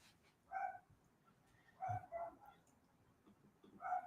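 Dogs bark in a few separate, faint, distant bursts, some sounding like yips, spaced out with quiet gaps between them.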